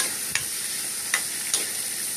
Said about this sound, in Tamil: செவக்க வறுக்கையும் 5-10 தேங்காய் சில்லை அதில் போட்டு நல்லா வறுக்கும்.